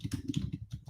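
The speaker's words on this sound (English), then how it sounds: "I'm just typing in our group." Rapid keystrokes on a computer keyboard, close and fairly steady, clattering alone through a short burst with no voices.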